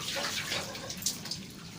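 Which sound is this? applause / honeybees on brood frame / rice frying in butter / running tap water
running tap water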